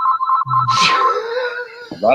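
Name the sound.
mobile phone ringing in an office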